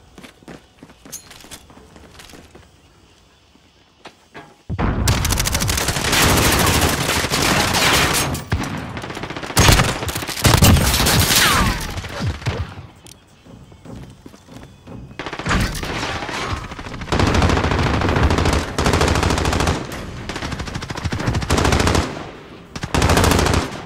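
Intense automatic gunfire in Modern Warfare on the Shipment map, with rapid bursts, single shots and footsteps in a chaotic close-quarters firefight, loud and nearly continuous after a brief quieter opening.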